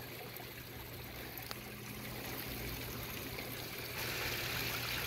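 Water from a pond filter waterfall trickles and splashes steadily over rocks, a continuous soft flowing wash close by with a faint low hum beneath, no voices.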